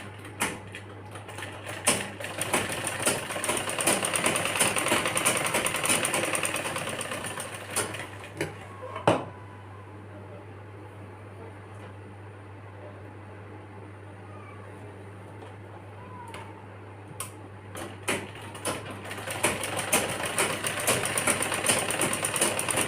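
A sewing machine stitches the pleats of a girl's one-piece frock, running in bursts of rapid, even clatter with a quiet pause in the middle before stitching resumes, close with a steady motor hum underneath.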